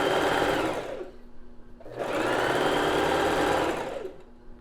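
A sewing machine stitches lingerie in two loud, close bursts of rapid whirring with a short pause between them, and a third burst starts at the end. No one speaks.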